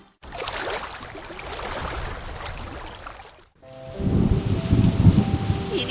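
Light drizzling rain patters steadily in a cartoon, a soft continuous hiss that briefly cuts out, then returns fuller and slightly louder.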